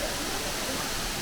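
Steady broadband rushing of a waterfall on a hiking trail, loud and continuous with no breaks for its whole length.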